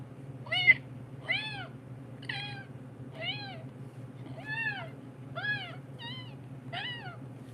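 A person imitates a kitten with a voice, giving eight short, rising mews at a steady rhythm, close and clear over a low background hum.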